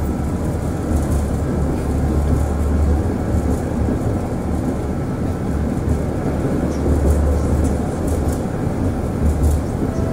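A Moscow tram on route 39 pulls away from a stop, its low steady rumble and rolling hum heard from inside the car and holding loud and even throughout.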